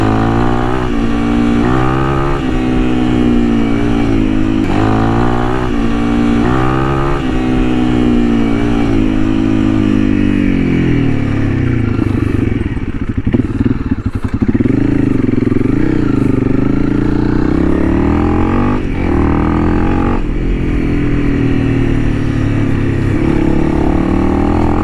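Honda CRF300L motorcycle engine on a test ride, loud and continuous, revving up and down through repeated accelerations and gear changes with a dip mid-ride before pulling hard again.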